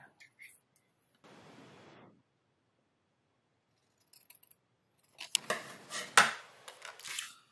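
Paper is cut with scissors while making a symmetrical or asymmetrical parallel-fold pop-up card. A close, steady snip-and-rasp lasts about a second, followed later by louder, irregular rustling and clicking as the paper is handled.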